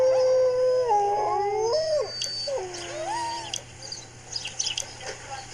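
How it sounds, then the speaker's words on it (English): Greenland dogs howling in a remote Arctic settlement, several overlapping rising and falling wails close by, trailing off into softer whimpers and yips. "The Greenland dogs here are the living inheritors of the ancient wolf's genome."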